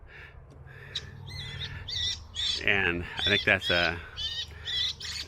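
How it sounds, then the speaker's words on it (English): Harsh, repeated raptor screeches from a bird deterrent loudspeaker protecting a fig crop, mixed with other recorded bird squawks and chirps, while a person speaks over them partway through. "so that's a raptor sound, but there's other sounds that are birds."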